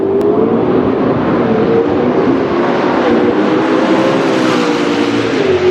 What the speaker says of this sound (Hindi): ये देखना जैसी गाड़ी निकली